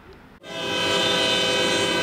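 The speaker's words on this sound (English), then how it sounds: "That distinct, intense roar of an oncoming train is a not-so-subtle hint at how destructive it can be." Oncoming train at a railroad crossing, suddenly swelling into a loud, sustained roar with a steady horn-like tone that holds at full strength.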